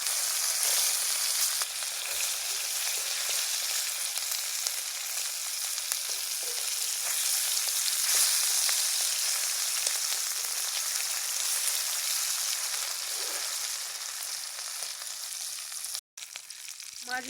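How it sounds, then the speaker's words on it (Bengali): Roe-stuffed bata fish frying in oil in a pan gives off a dense, steady hiss of sizzling that runs unbroken, cutting out briefly just before the end. "মাছের এক পিঠ ভাজা হয়ে গেছে, অপর পিঠটা উল্টিয়ে একইভাবে ভেজে নেব।"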